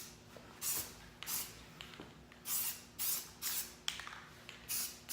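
Spray paint hisses from an aerosol can in short, light bursts in a garage, about seven quick puffs in an uneven rhythm, close but fairly soft, with small handling noises between them.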